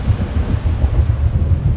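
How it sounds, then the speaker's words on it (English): Strong wind roars and buffets continuously at sea off the Cape Verde islands, gusts around 29 to 30 knots, heavy gusting rumble with a hint of sea noise beneath, no voices. "It is freaking howling. We've got 29, 30 knots now on the gusts."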